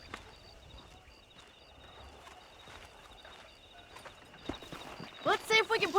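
Horse hooves clip-clopping in the video game Red Dead Redemption while breaking in horses, a quiet steady patter of hoofbeats that ends in a few louder thuds and a sharp burst of animal noise.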